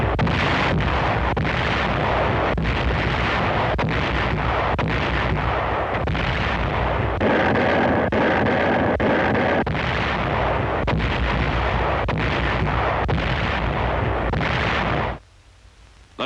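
Continuous heavy artillery fire in wartime Pacific combat footage, dense overlapping booms and blasts pounding steadily for about fifteen seconds before abruptly cutting to quiet.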